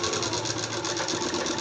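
A sewing machine stitches blouse shoulder seams, a close, steady, rapid mechanical whir with a fine rhythmic pulse and no break.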